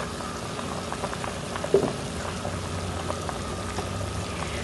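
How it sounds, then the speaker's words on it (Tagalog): A pot of Filipino beef pares stew simmers steadily, a soft continuous bubbling and burbling with a faint clink partway through, no voices. "hayaan lang natin ulit na kumulo hanggang sa lumambot yung beef natin"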